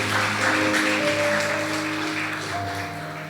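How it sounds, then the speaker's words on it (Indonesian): A church congregation claps together during a Sunday worship service, a steady wash of applause carried over sustained organ or keyboard chords, fairly loud and continuous, easing slightly toward the end. "Kita tepuk tangan bagi Tuhan"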